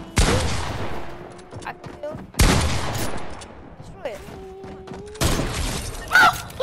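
Three heavy sniper rifle shots ring out in a first-person shooter video game, each a sharp crack with a long rolling decay and a few seconds between them, with faint game effects in the gaps.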